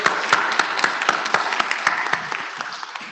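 Applause for lightning-talk speakers at an IETF meeting fills the room: a dense patter of many hands with some crisp nearby claps, slowly thinning toward the end.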